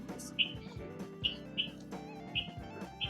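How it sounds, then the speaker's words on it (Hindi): Small birds give short, bright chirps at a nature resort in Jaipur, five or six quick calls spaced across a few seconds, faint and a little distant over a soft background hum. "आप चिड़िया की आवाज़ सुन सकते हैं, कितनी प्यारी आवाज़ आ रही है।"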